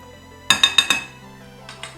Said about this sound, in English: now I'm just going to transfer this to another bowl because I need this one to whip the butter